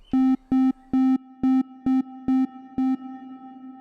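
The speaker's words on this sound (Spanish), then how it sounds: "podemos notar que va aplicando más del efecto de reverberación" A mono tone sounds in short repeated bursts, seven even pulses with gaps, its tail growing more washed and reverberant as it is panned toward the sides, ending in a lingering decay.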